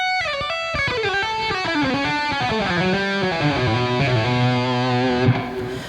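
A distorted electric guitar plays a fluid legato lick, with smooth connected notes sliding and descending, then settling on a sustained low note, loud and close.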